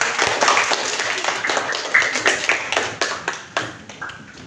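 Group of trainees claps for a professor in an Indonesian classroom session, a few distinct, fairly close hand claps forming brief, uneven applause that thins out toward the end.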